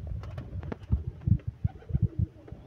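A pair of domestic pigeons kept for flying coo close by, a run of low, throaty pulses repeating in an uneven rhythm with nothing else heard.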